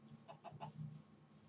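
A chicken in a Minecraft-style setting gives three quick, soft clucks followed by a slightly longer one, faint and close, with a low steady hum underneath and no talking.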